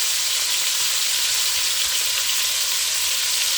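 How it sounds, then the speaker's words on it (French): Smoked meat grilling in a pan for fumbwa, a loud, steady sizzle of frying with no pauses and no talk. "Je vais griller la viande pendant quelques minutes"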